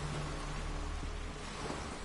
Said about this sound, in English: Well, it started to rain.